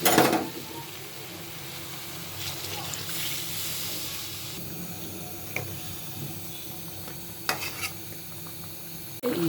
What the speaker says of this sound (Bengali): সাজনাগুলো আমার কষানো হয়ে গেছে